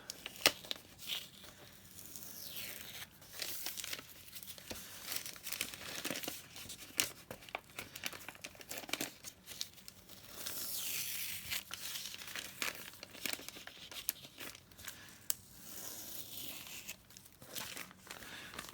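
Printed paper is slowly peeled away from a paper bag, giving soft crinkling and tearing sounds in uneven bursts, quiet and close, with no one talking.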